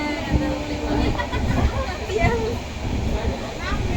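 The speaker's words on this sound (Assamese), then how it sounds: "আমি ট্ৰেইনতে" Inside a moving passenger train at night bound for Goalpara: a continuous low rumble and rattle of the carriage runs under a murmur of nearby chatter.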